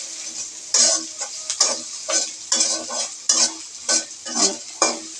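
Onions hit spiced oil for a chicken stew and are stirred, making a crisp close sizzle that rises in regular scraping bursts, about a dozen strokes spread evenly across the clip.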